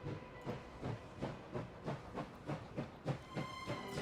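Armored train rolling in the video game Last Train Home, with a steady clickety-clack of wheels roughly three times a second over a constant steam hiss.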